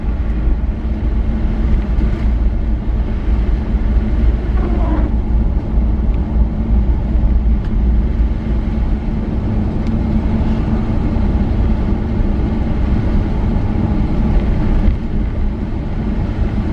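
A 1984 Chevy pickup truck driving, its engine and road rumble a steady low drone heard from inside the cab, loud and unbroken with no talk.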